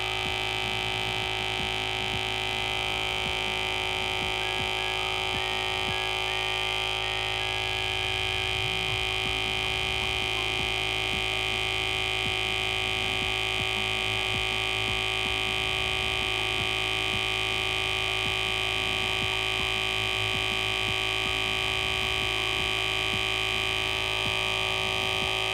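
A resin degassing machine running under vacuum hums steadily with a constant electrical drone and pulsing throb, unbroken and fairly loud throughout, with no voices.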